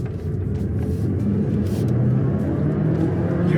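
A 2024 Alfa Romeo Tonale Veloce hybrid on the road, heard from inside as a steady low engine and road rumble that holds at an even, fairly loud level with no talk over it.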